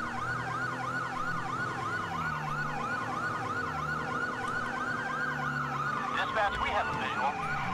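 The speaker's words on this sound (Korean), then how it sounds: "아, 저기 사이렌." A police siren wails in steady repeating sweeps over a low engine rumble in the video game GTA V with the LSPDFR police mod, loud and continuous, with a brief burst of clatter near the end.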